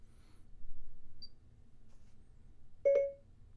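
A Pioneer AVH-X2800BS car stereo sounds its voice dialing prompt, a single short, clear beep that rings out near the end after a quiet stretch.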